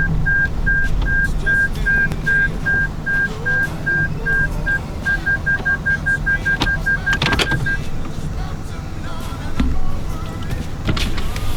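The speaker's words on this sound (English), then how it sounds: "It's probably just the brake warning that it's overheating a little bit" Repeating electronic warning chime inside a Power Wagon truck on a high mountain trail, a steady series of evenly spaced beeps lasting several seconds over low engine and road rumble, with a few clunks.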